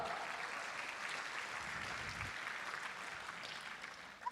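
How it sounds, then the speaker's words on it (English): A conference audience at the International Tourism Investment Forum applauds the opening dance by Sekolah Tinggi Pariwisata Bandung students, with steady, even clapping from many hands heard at a distance that tapers slightly toward the end. "let's give a round of applause for our opening dance"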